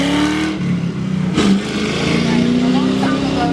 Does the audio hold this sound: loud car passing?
yes